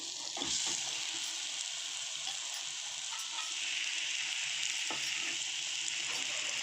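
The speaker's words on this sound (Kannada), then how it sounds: "ನಾನೀಗ ಬೇಯಿಸಿ ಸ್ಮ್ಯಾಶ್ ಮಾಡ್ಕೊಂಡಿರೋಂಥ ಆಲೂಗಡ್ಡೆನ ಸೇರಿಸ್ಕೊಳ್ತೀನಿ." Boiled, mashed potato is stirred into a frying spice mixture for aloo paratha filling, giving a steady close sizzle under a spoon's repeated scraping and a couple of sharper knocks against the pan.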